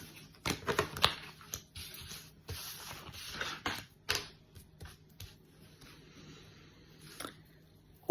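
An 80-card tarot deck being shuffled by hand gives soft, dry papery riffles and taps in short bursts, quiet and close, with brief pauses between handfuls.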